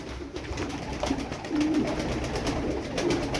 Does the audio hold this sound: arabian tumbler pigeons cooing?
yes